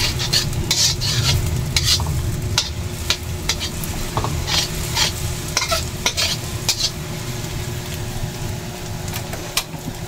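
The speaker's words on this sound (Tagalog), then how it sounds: "So scrambled egg muna." Scrambled egg frying in a pan, cooked as a topping for low-carb bagoong fried rice: a steady close sizzle with frequent scraping and clicking stirring strokes throughout, no talking.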